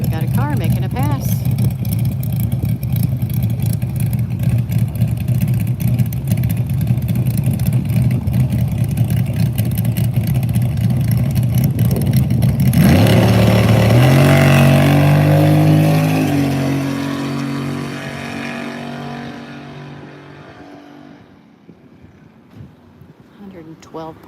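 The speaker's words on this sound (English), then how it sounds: "Okay, we got a car making a pass." A drag racing car makes a pass at Rocket City Dragway in Huntsville, Alabama: a loud engine roars close by, then surges and shifts upward as it launches, and the noise fades steadily into the distance.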